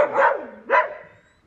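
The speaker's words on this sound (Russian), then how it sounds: "Кто сейчас будет лаять на вас?" A husky puppy gives two quick barks, close and fairly loud, with a short gap between them and a fading tail after the second.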